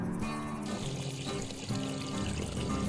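Water pours and splashes steadily out of a drainage pipe in a pasture, a continuous gushing flow at moderate volume with no talking.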